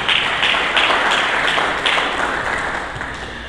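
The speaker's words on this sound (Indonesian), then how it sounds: "Berikan tepuk tangan bagi Tuhan." Congregation clapping during a church service, a loud burst of many hands that slowly fades over a few seconds.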